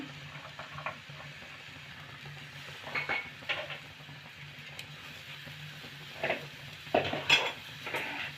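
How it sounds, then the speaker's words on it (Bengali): A spoon clinks and scrapes against a pot while a mashed potato and green pea mixture is stirred for vegetable chops, with soft intermittent strokes and a faint background hum. "ভালো করে নাড়িয়ে নেব"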